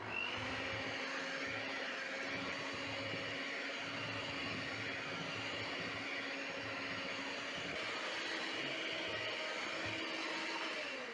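A stand mixer runs steadily at high speed kneading sausage roll dough, a continuous even motor whir with a faint tonal hum, fairly quiet and unchanging throughout.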